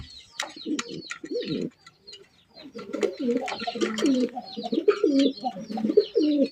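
Fancy racer pigeons coo repeatedly in a pigeon collection, with soft throaty rolling calls close by and a few faint chirps, no talk heard.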